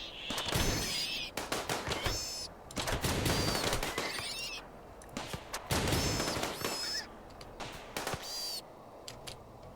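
Bursts of automatic gunfire in a video game rattle out in long volleys separated by short lulls, loud and near, with scattered single shots trailing at the end.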